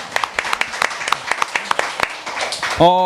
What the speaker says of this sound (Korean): 이럴 때 그냥 박수 한번 쳐주시면 참 좋은데.